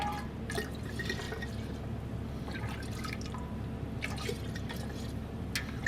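Apple pie moonshine pouring into a gallon jug, a continuous low gurgling fill with scattered drips and splashes, fairly quiet and close.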